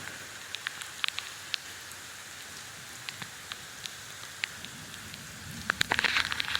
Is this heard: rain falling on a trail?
yes